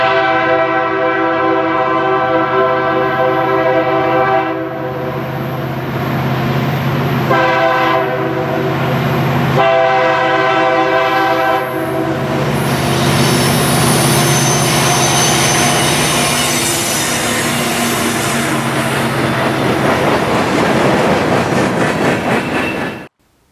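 A KCS SC70ACe locomotive leads a northbound Texas Utilities Martin Lake empty coal train, passing loud and close with a steady diesel roar, horn-like tonal notes and rolling rail noise that builds toward the end before cutting off.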